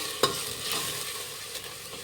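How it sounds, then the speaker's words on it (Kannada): A ground masala of cinnamon, cloves, ginger and onion frying in oil for a sambar, with a spoon scraping and stirring through a soft continuous sizzle, close and fairly quiet. "ಇದೊಂದು ಸ್ವಲ್ಪ 1-2 ನಿಮಿಷ ಇದನ್ನು ಎಣ್ಣೆಲಿ ಫ್ರೈ ಮಾಡಬೇಕಾಗತ್ತೆ"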